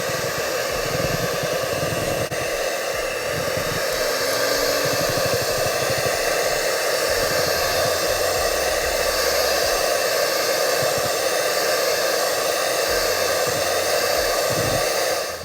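An electric mixer whips thickened Cuban caramel milk candy mixture for cremitas de leche, a loud, steady whirring motor drone running continuously without talk.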